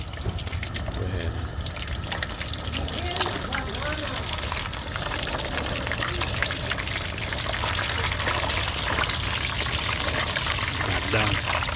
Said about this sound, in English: So we got this red tilapia. We're frying it out here.